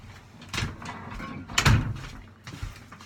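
A door in a backyard writing shed is opened to let a dog in, giving a few handling clunks and a sharper bump midway, with quieter rattles after, fairly close.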